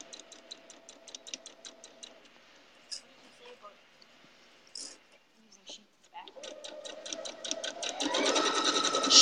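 A sewing machine stitches a log cabin quilt in rapid, evenly spaced ticking bursts, pauses briefly amid small handling clicks, then starts again and speeds into a louder, dense whirring run.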